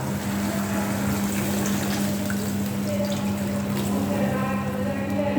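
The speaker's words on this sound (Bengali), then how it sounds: "এর মধ্যে ঝোল দিয়ে দিচ্ছি।" Broth pours steadily into a pan of fried potatoes for a Bengali catfish curry with bitter gourd. A continuous liquid splash runs over a low hum, with faint clinks near the end.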